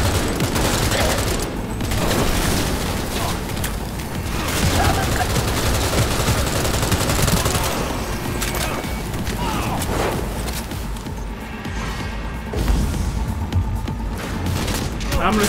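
Gunfire in the video game Cyberpunk 2077 rattles in dense, continuous bursts with booming impacts throughout. A voice is heard briefly under the shooting.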